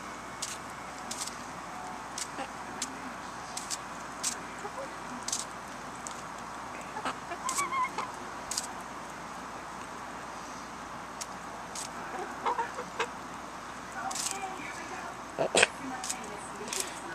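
Scattered short clucks and squawks from hens eating apples over a steady outdoor background, irregular and moderately close.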